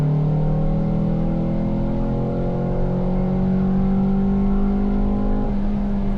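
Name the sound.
Ford Fiesta ST with Mountune exhaust accelerating onto wet track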